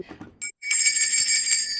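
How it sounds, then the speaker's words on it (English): Small bells ring out with a bright, sustained shimmer after a few faint taps, close and clear, lingering steadily to the end without any talk. "I have to do a special thing to make the bells ring"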